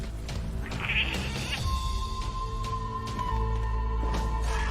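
Cat meows and yowls from a video game featuring playable cats, several drawn-out cries over a busy musical backdrop, loud and close with no talking.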